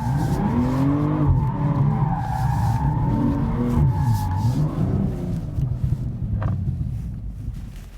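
An all-wheel-drive BMW M240i slides sideways, tires squealing loudly in wavering, rising and falling tones over the engine, for several seconds before fading.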